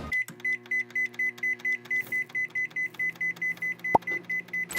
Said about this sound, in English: We're gonna add our steak to the microwave.